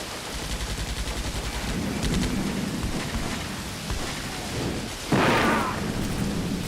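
Gunfire landing in the wartime strategy game Combat Mission: Beyond Overlord: a rumbling stream of rapid shots and impacts, then a louder crack-like burst near the end, dense and continuous.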